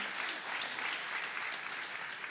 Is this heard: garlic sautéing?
no